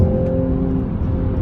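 A 2021 Mercedes-AMG C43 engine roars steadily while accelerating in Sport Plus, a continuous, close, loud drone with a faintly rising pitch.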